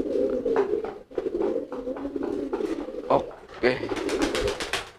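Market-bought pigeons in a coop coo repeatedly, with soft, low, rolling calls close by while someone speaks over and between them.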